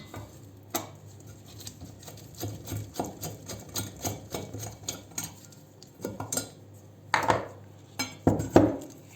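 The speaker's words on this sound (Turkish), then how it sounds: "Öncelikle çaydanlığın kulbunu çıkartacağım." Clinking and clattering of a metal kettle up close as its handle is removed, a string of irregular knocks and scrapes with a few louder clanks near the end.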